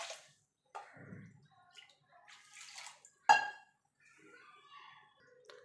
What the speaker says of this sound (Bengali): আমি 3 বাটি জল দিয়ে দিয়েছি